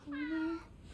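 In the video game Forspoken, a cat gives a single clear, drawn-out meow lasting about half a second, close and distinct over a quiet background, followed by faint room noise.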